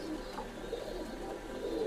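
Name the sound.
Oman Teddy pigeon cooing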